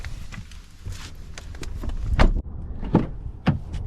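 The rear door of a 2023 Subaru Legacy Touring XT gives a few close mechanical clunks and latch clicks over a couple of seconds, heard alone without talk.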